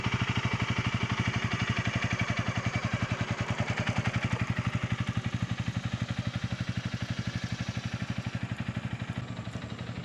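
A motorcycle ridden by a beginner on a slow practice lap, its mid-pitched engine thumping steadily at a low, even pulse throughout, close and fairly loud with no talk over it.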